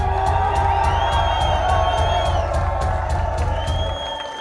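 A live heavy metal concert crowd in Cleveland applauds and cheers, a loud continuous wash of clapping with whoops and shouts over a low stage hum.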